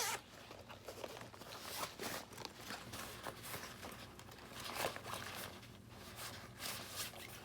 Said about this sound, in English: There's a zip.